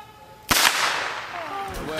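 A starter's pistol fires once at the start of a running race, a sharp loud crack that rings out and decays, followed by some background noise and faint voices.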